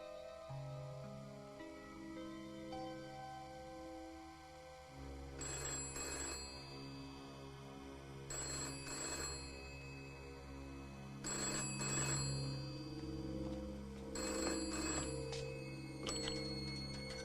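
An old telephone bell rings in regular bursts, four or five rings spaced a few seconds apart over a steady low background hum.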